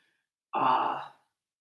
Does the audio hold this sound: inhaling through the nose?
yes